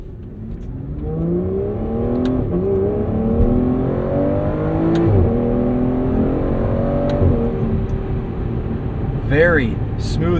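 A 2015 Aston Martin Vanquish with a 6-liter V12 accelerates hard, its exhaust rising through the gears in steady climbing sweeps up close, with a sharp upshift near the end and continuous cabin-level roar throughout.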